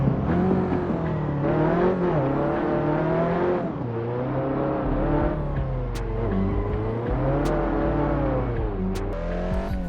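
In the Assetto Corsa racing game, the turbocharged Abarth 500 SA, a 160-horsepower car weighing 2,260 pounds, drones steadily as the engine revs rise and fall through repeated gear changes, with brief turbo whooshes between shifts.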